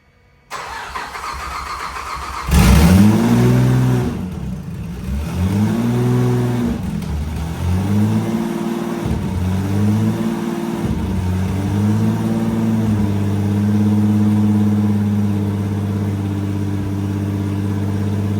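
A Saab 9-3 engine fitted with a Holley Hi-Ram intake manifold cranks and fires up, then revs in several rising and falling sweeps before settling into a steady idle, loud and close, no voices.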